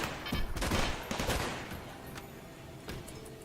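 Rapid bursts of turret gunfire from a RimWorld battle, dense clattering shots in the first second and a half, then thinning into scattered isolated cracks, with no talk.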